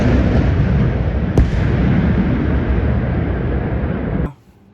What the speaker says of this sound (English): Here's a video of a launcher going off in the daytime.